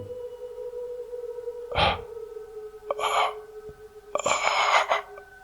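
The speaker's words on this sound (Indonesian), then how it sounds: "Ada suara dengusan nafas berat" Three heavy, breathy snorts or exhalations from an unseen presence in a dark bedroom, spaced a second or so apart, the last one longest and loudest, over a low steady hum.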